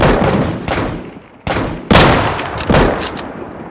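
Sharp, loud gunshots from Deadside crack in quick succession, several close reports with echoing tails across a few seconds, including a tight cluster of rapid shots near the end.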